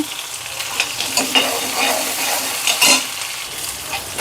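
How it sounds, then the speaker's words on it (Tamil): Onions, cumin and curry leaves sautéing in a pan for radish sambar, a close sizzle broken by repeated scraping stirs of the spoon. "நாலு கருவேப்பிலையை சேர்த்து நல்லா வதக்கி விட்டுருலாங்க"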